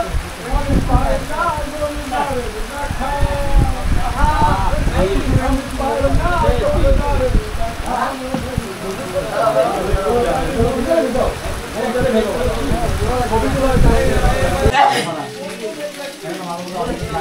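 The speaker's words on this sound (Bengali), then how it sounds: "বৃষ্টি ভিজা তো" Steady rain hisses and patters throughout, loud and close, with several people talking over it, in the hills of Bandarban, Bangladesh.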